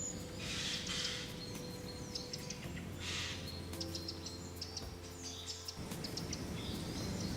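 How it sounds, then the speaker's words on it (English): Alarm calls of a blackbird, titmouse, common chaffinch and jay ring through a forest, heard as faint, scattered chirps over a steady insect drone, distant and quiet, with no talking. "We are hearing the continuous alert of the blackbird, titmouse, common chaffinch, and a jay."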